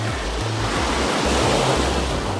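Caribbean Sea surf breaks along the shore at Tayrona National Park near Santa Marta, Colombia, a steady loud wash of waves with gusts of wind rumbling on the microphone.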